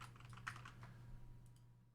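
Quiet, rapid tapping of computer keyboard keys, a run of soft clicks heard close but faint, with a low steady hum underneath.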